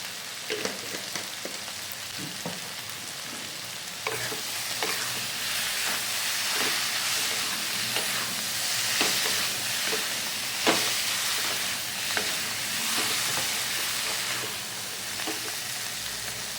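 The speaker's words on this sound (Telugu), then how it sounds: "బాగా బాయిల్ అవుతుంది, ఫ్రై అవుతుంది." Cauliflower and tomato frying in a pan, a steady soft sizzle and hiss with occasional crackles and stirring clicks throughout, fairly quiet and close.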